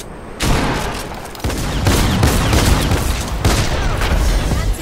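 Heavy video game gunfire erupts in dense, loud bursts of rapid shots and booms, sustained almost continuously after a brief quieter opening.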